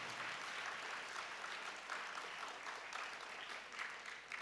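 Faint, distant applause from a congregation at a church thanksgiving service for Rev. Fr. John Peter, a soft continuous patter of hands that stays quiet and even throughout.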